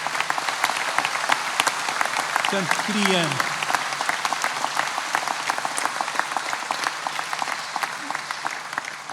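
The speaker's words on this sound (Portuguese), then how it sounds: "não batam mais palmas, senão depois não temos tempo para cantar." Audience applause fills a concert venue, steady broadband clapping from a crowd throughout, with a voice briefly speaking over it partway through.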